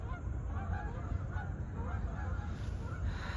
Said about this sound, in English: oh, there go the geese. They're traveling south.